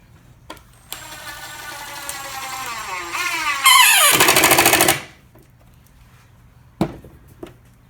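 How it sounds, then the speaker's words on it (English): A power driver sinks a screw into plywood while building a cornhole board: a close motor whine climbs steadily in pitch for several seconds, then breaks into a louder rattling burst as the screw seats, followed by a few faint knocks. "I'm anchoring a screw into this side first"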